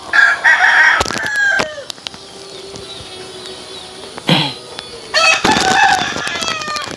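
A rooster crows loudly and close by, two long strained calls separated by quieter stretches with a few clucks and brief knocks in between.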